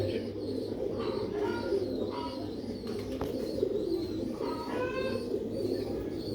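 Sialkoti pigeons coo steadily in a soft, repeated rhythm, close by, over a constant low hum and faint background chirps.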